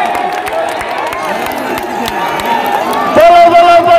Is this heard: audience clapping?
yes